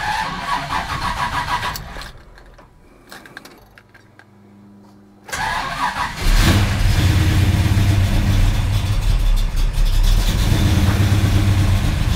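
LS3 V8 in a restomod tank fires up after a few seconds of quiet and a brief pump whir, then settles into a loud, steady idle with a deep rumble that continues to the end.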